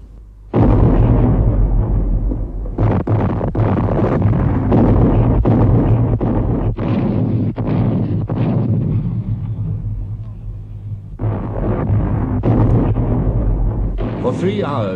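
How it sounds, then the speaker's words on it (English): German heavy guns pounding Verdun in a World War I bombardment, loud booming blasts and rumbling detonations in near-continuous succession, with sharper bursts punctuating a dense low roar. "For 3 hours, the German heavy guns ranged on Verdun itself."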